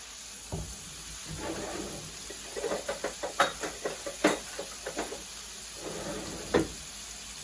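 Garlic hitting a pan for homemade chili, with a low steady sizzle under a quick run of tapping, scraping stirs and a few sharper knocks of a spoon against the pot, close and without talk.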